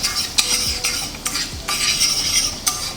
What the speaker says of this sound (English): we'll add in a tablespoon of chopped garlic. We'll saute it for a minute.